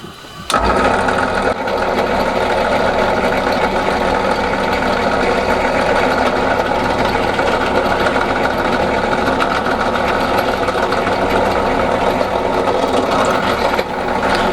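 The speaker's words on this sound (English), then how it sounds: "I'll just put a 2mm drill down first" A small drill with a 2mm bit whirs steadily and loudly for about fourteen seconds while carving a guitar neck, a continuous high-pitched motor hum with a buzzing edge and no talking.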